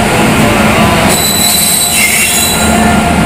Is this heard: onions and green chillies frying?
no